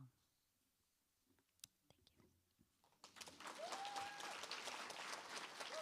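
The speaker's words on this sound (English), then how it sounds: "I don't think that's quite enough applause for Seema Reza." Quiet scattered clicks and rustles, then a burst of audience applause at a faculty reading, many hands clapping steadily and filling the room, with a few cheers.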